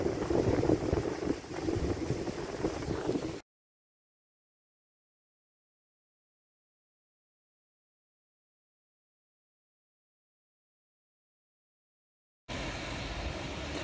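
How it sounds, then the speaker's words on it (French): Wind buffets a microphone outdoors beside the Danube, where boats pass. A loud, rumbling gust opens the moment, then there is total silence, and a second steady burst of wind noise follows near the end. "il y a un peu de vent"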